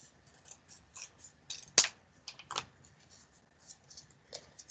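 Scissors snip a paper heart for a pop-up card, making faint, close, irregular clicks and short slicing cuts, with one or two crisper snips standing out.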